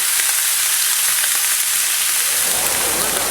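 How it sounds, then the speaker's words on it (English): A steak sears in a hot cast iron skillet with stir-fry oil, giving a loud, steady hiss and crackle of sizzling fat that continues close up and unbroken throughout. "we're going to grill these on both sides until there's a crust"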